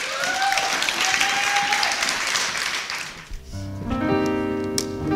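A church congregation claps and cheers in a sustained broad wash for about three seconds, then the applause gives way to steady sustained organ or keyboard tones.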